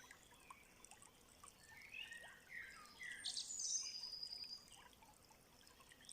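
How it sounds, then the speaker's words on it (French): Faint bird calls and chirps in a forest, with a few brief twittering phrases rising over soft background hiss and a trickling-water texture, fairly distant and quiet. "Et vous entendez le chant des oiseaux"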